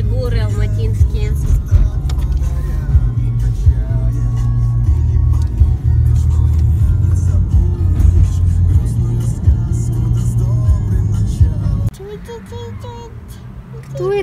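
A car drives along a road near the mountains of Almaty, its engine a loud, steady low rumble heard from inside the cabin with people talking over it, until the engine note drops and quiets near the end.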